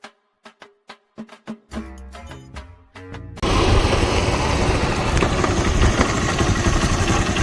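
A motorcycle engine starts up after a few sharp clicks and sputters, then settles into a loud, steady running rumble close by, with no talking.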